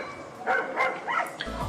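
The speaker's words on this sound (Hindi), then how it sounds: "दूसरी गली के कुत्ते भी उसे देखकर भौंकने लगे" Dogs bark in a street, a few quick overlapping yaps and woofs at moderate distance against background noise.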